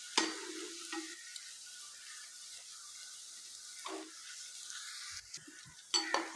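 Three chicken patties sizzling in hot oil in a pan, a soft steady frying hiss with a few quiet clinks of utensils, no talking.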